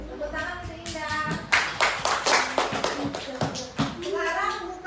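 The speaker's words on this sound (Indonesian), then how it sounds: "Dan nanti di tepuk tangan untuk Indah." A classroom of children claps for a student, a burst of quick, close, uneven handclaps lasting a few seconds, with a voice speaking before and after.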